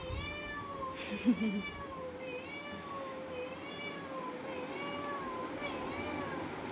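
A cat gives a run of drawn-out, wavering meows over a faint background hum, with one brief louder rustle early on.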